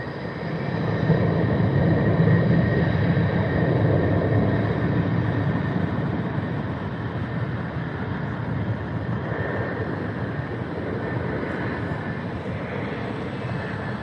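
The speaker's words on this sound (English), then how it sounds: "There goes that little E175 taking off." An Embraer E175 jet takes off from runway 24 left at LAX, and a loud, steady roar of jet engine and rushing noise holds for many seconds, easing slightly as it climbs away.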